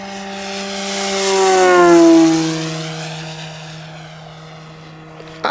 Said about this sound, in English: you can actually hear the prop echoing in the background.